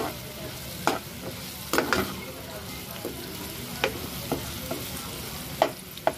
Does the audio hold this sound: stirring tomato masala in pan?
yes